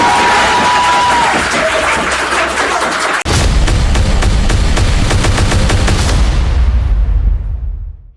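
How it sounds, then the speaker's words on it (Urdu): A crowd applauds a death sentence verdict in a courtroom, a steady wash of loud clapping that breaks off briefly and returns even denser and louder, then fades out at the end. "عدالت سزائے موت کا حکم سنا رہی ہے اور لوگ تالیاں بجا رہے ہیں"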